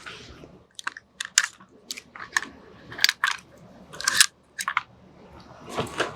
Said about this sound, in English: Now let's pull the bolt out and see what that looks like.